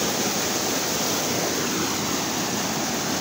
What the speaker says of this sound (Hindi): पानी का प्रेशर काफ़ी ज़्यादा है